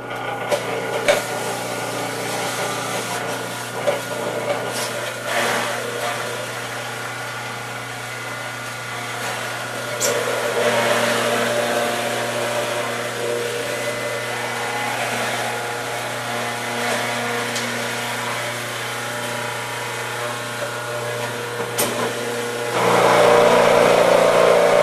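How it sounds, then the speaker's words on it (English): A running juicer processes leafy vegetables, cucumber, apple, pear and lime. Its steady motor hum and grinding carry on alone for about 25 seconds, swelling louder midway and again near the end. "we're going to turn on the juicer and give it a"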